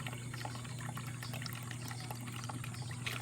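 Water flows steadily through a PVC pipe channel of a homemade hydroponic NFT system fed from a 100-liter reservoir, a constant trickling wash with a low pump hum underneath.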